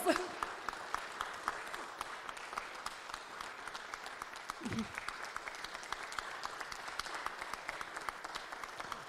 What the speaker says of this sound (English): Can we have a thunderous round of applause?